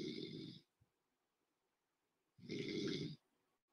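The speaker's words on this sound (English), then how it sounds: "You need to put it on mute while you're snoring away like that." A person snores over an unmuted call line: two long, rasping snores separated by a quiet pause, faint and close.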